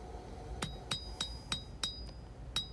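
A hammer strikes hot steel on an anvil while a knife blade is hand-forged from a worn-out file, giving six sharp ringing blows at an uneven, roughly steady pace, close and clear over faint background hiss.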